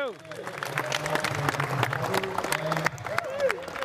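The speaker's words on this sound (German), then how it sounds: "Noch einmal Applaus für Alfie Jacques." A crowd at a gathering about traditional hickory lacrosse sticks applauds Alfie Jacques, with uneven clapping mixed with cheers and nearby voices talking through it.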